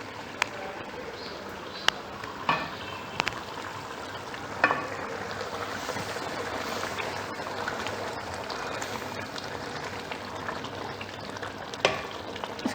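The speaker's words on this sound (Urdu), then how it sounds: "اس کو آپ بھون لیں اب اچھی طرح" Mutton karahi being bhuna-fried in a pan: a steady, moderate sizzle and crackle runs throughout, broken by occasional sharp clinks and scrapes of a utensil against the metal.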